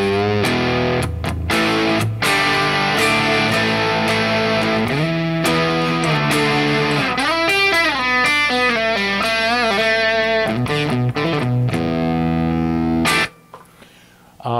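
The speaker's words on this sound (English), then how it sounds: "Here's the sound of it without the overdrive in." A Triwatt guitar amp's crunch channel without the overdrive engaged, a loud, continuously sustained distorted guitar playing chords and melodic runs before cutting off near the end.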